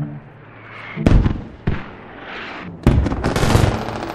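Gunfire in the multiplayer war game Squad, a few loud sharp shots and short bursts with rumbling booms between them and a noisy battlefield background.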